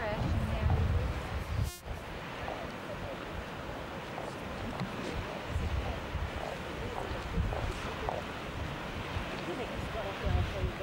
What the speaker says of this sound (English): Can you film the waves crashing there?